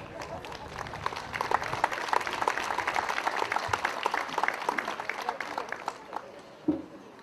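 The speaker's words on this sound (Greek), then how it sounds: "Θα ήθελα το θερμό χειροκρότημά σας." Warm applause from an audience at a Klidonas custom celebration event, steady dense clapping sustained for several seconds before tapering off near the end.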